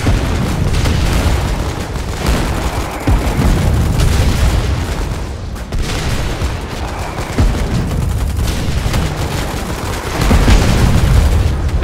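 Heavy, continuous battle noise in the war game Foxhole, with dense booms and gunfire as anti-tank rifle rounds strike a vehicle, loud and close with no pause.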